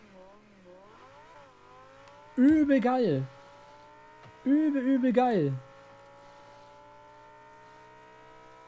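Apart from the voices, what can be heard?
Lamborghini car engine sound in Rocket League video game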